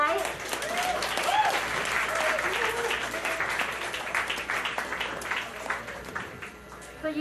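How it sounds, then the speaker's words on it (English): An audience at an Art Battle Vancouver live painting event gives the artists a big round of applause, dense steady clapping mixed with a few cheers, filling the room for several seconds. "let's please give a big round of applause for all the artists tonight"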